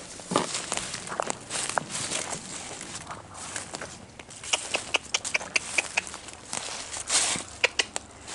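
Boots tread outdoors at night around a farmhouse, a series of crunchy footfalls near and far, loosening into sharper, irregular steps with faint background hiss and no speech.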